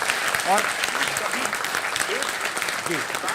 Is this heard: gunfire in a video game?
no